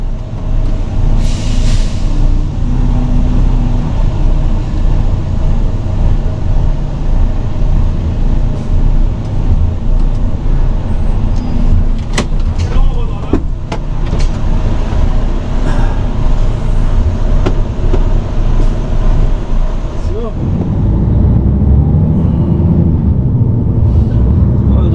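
A truck moves off slowly with a steady low engine rumble and an air-brake hiss, close by, set against road and traffic noise, with brief voices now and then.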